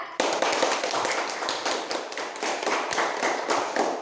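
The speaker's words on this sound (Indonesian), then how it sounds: "tepuk tangan untuk kelompok 3" A classroom of students claps for group 3 after its presentation in an Indonesian-language lesson, a dense, loud burst of many hands that starts sharply and holds steady until it tapers off.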